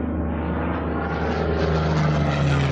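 Airplane engine droning steadily and loudly in a children's play setting, a continuous propeller-like hum with no voices.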